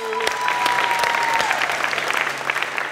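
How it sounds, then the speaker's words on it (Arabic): A TV game-show studio audience applauds the contestant's family, a steady burst of clapping from many hands with a faint tone underneath. "عطوني تصفيق عليهم كاع"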